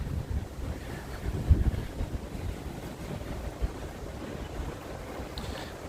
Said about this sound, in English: Ooh, very windy here.